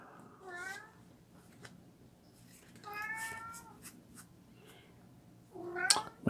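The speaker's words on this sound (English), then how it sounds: "My cat has something to say." A house cat meows three times, each call a rising, wavering cry, the last one loudest and close by, with quiet room noise in between.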